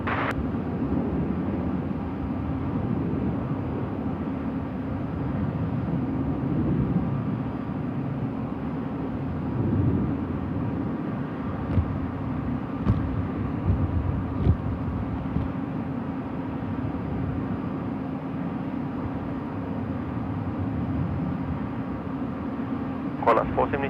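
A plane lands on runway 16 right at Sydney Airport at night, a steady broad roar holding for the whole stretch with a few faint clicks near the end.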